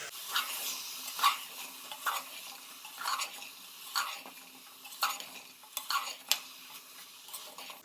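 Sprouted moong and soya chunks stirred in a pan for a soya chunks pulao, giving repeated scraping and clinking strokes of a utensil against metal with a faint sizzle beneath, close and steady, no talking.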